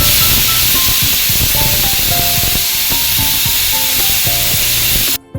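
A pressure cooker cooking brinjal biryani lets off a loud, continuous steam hiss with wavering whistling tones over a low rumble, close and steady for several seconds before cutting off abruptly.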